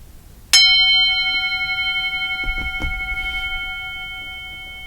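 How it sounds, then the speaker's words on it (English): A single bell strike rings out clearly, its bright tone sustaining and slowly fading, with a few faint knocks partway through. "I'm going to ring the bell. I'm going to ask you to listen carefully."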